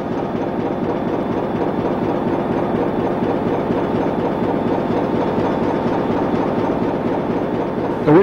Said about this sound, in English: The main compressor house contains 4 of the 5 ammonia compressors, made by J&E Hall Limited of Dartford.